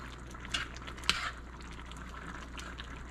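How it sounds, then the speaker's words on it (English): Jambalaya bubbles gently in a pan over high heat, a soft steady simmer with a couple of sharp utensil clinks against the pan; no speech. "I got a nice boil here, but I don't have a boil everywhere."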